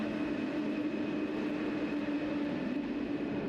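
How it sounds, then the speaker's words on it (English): A dual-voltage Paris RER MI 84 electric train pulls out of the station with a steady rumble and a thin motor whine, moderately loud and continuous, with no voices. "I stopped to take a bit more footage of this train leaving"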